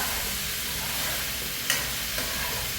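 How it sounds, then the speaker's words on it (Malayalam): Steady sizzling and frying with a soft scrape of stirring crab curry in a frying pan, continuous and close, with no voices. "നമ്മളിതാ നന്നായിട്ട് ഇളക്കി കൊടുക്കാം"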